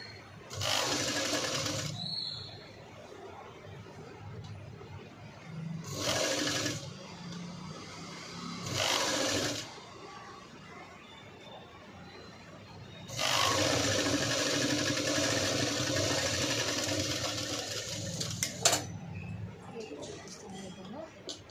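A sewing machine stitches a V-neck cut work blouse in several bursts: three short runs, then a long steady stretch of rapid whirring, with quieter gaps in between.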